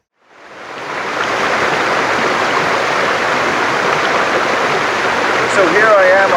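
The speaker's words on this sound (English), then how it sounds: "here I am on a beautiful mountain stream in a rainforest north of Santa Fe in the country of Panama" Mountain stream in a rainforest north of Santa Fe, Panama, rushing steadily as a broad, continuous water roar that fades in and then holds loud and close throughout, with faint high bird or frog chirps near the end.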